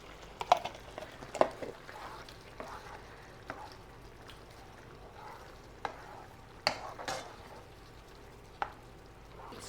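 A spoon stirs creamy pasta sauce of heavy whipping cream and Parmesan in a pan, giving soft, quiet scrapes and occasional sharper clinks against the metal over a faint sizzle.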